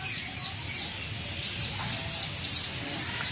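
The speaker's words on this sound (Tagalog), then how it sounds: "marinig din ang mga ibon yan" A flock of birds calls at dusk above a picnic spot along a corniche, repeated chirps and clucking squawks scattered through a hissing ambient backdrop, fairly faint and distant.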